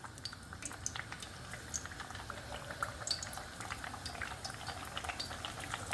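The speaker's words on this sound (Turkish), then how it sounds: "Şimdi güneşte kurutmuş olduğum patlıcanlarımı yağıma ilave" Sun-dried eggplants frying in hot oil in a pan give a steady, fairly quiet bubbling sizzle with scattered sharp crackles and pops throughout.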